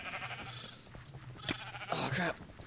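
Two sheep bleat in quick succession in a video game, wavering calls over a steady game background, one short and one longer near the end.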